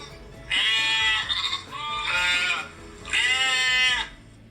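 A sheep bleats three times, loud and close: long wavering calls separated by short pauses.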